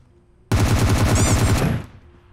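Video game automatic gunfire fired at a distant target: a single loud, rapid burst of rattling shots lasting a little over a second, close and alone, then cut off abruptly into quiet.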